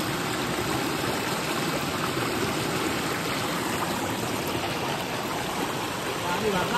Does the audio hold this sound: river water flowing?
yes